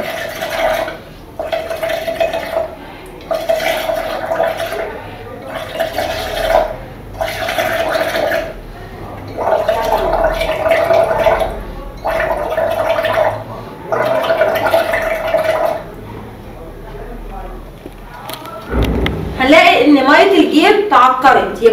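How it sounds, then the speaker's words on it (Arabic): Exhaled breath blown through a thin tube into a glass of clear limewater, making about eight loud, bubbling bursts separated by short pauses, followed by a voice at the end. "ماذا يحدث عند نفخ هواء الزفير بالسائل الموجود أمامك؟ هنبتدي ننفخ ونشوف"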